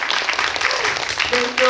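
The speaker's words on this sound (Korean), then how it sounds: "박수 주세요" Audience members at a short film festival Q&A clap briefly, a short burst of applause layered over a speaking voice that continues through it.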